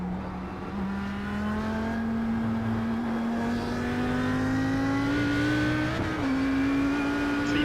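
A race car engine drones steadily in iRacing during a Blancpain Sprint Series road race, holding a sustained tone that slowly climbs in pitch, with a brief shift near the end. The engine sounds close, continuous and alone.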